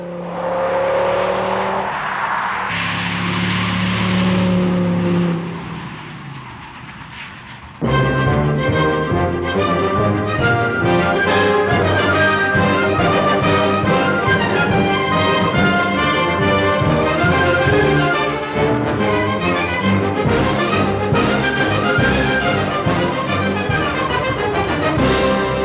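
An Audi S6 V10 engine pulls hard for several seconds with a rising, harmonic growl, then dense music takes over for the rest of the clip.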